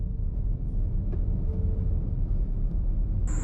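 A small lorry passes on a narrow two-lane bridge on the Thoothukudi to Tiruchendur road at night, a steady low road rumble under the car's interior noise, with a thin high tone near the end.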